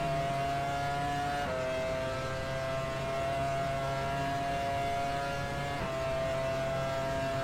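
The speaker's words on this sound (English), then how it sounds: "Something's happened as well because I can hear a car" A steady engine drone, probably a racing video game car, holds a constant pitch and shifts gear twice, moderately loud and alone with no talking.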